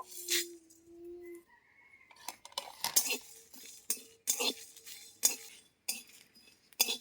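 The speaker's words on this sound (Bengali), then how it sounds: "কড়াইয়ের মধ্যে শুকনো লঙ্কা গোটা জিরে গোটা মৌরি আর গোটা ধনে ভেজে নেব" Dry red chillies, cumin, fennel and coriander seeds are dry roasted in a wok, with a spatula clinking and scraping in quick, irregular metallic strokes and a faint rattle of tossed seeds.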